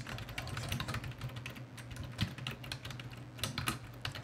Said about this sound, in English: You guys, I know, can hear me typing here.